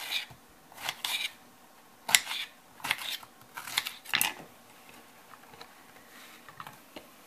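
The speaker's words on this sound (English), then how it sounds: "Then we have to cut the eggplant." A knife chops eggplant in irregular sharp taps and slices, faint and close, with quiet pauses between the cuts in a kitchen.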